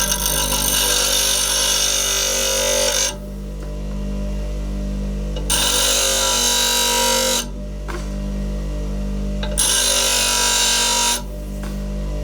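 A Graphite double bench grinder sharpens a drill bit, its motor humming steadily underneath while the grinding wheel rasps loudly in three separate bursts as the bit is pressed against it and pulled away.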